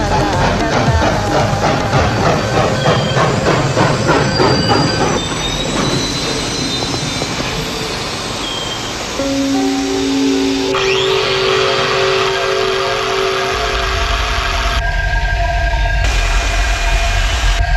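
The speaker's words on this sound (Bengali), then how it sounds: "এইভাবে হঠাৎ মাঝপথে ট্রেনটা দাঁড়িয়ে পড়লো" A train rumbles and clatters, then its brakes squeal in long, shrill, sustained tones as it slows to a halt midway along its route, loud and near.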